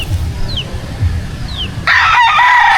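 A white kelso rooster on a farm gives a couple of short clucks, then a loud, close crow bursts out and holds to the end.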